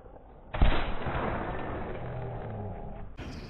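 A single loud, close gunshot in the video game The Walking Dead Saints & Sinners, a sharp blast followed by a long rumbling decay that cuts off abruptly.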